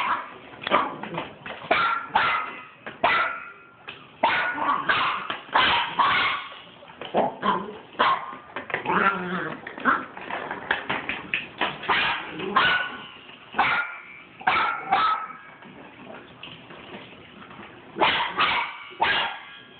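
A dog barks repeatedly at a toy hamster and mixes in whimpers and yips, loud and close, in uneven bursts that continue throughout.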